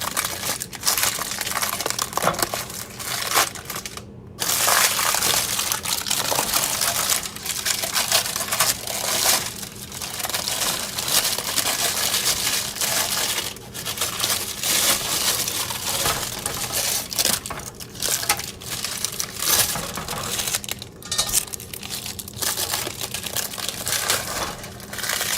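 A freshly baked sourdough loaf cooling on parchment, its crust giving a continuous dense crackling and popping, close and fairly loud, no voices.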